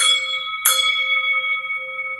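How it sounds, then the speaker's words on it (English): A wrestling opening bell rings loudly with sustained metallic tones, struck once and then struck again sharply, its ring decaying slowly throughout. "The opening bell, WrestleMania season being upon us."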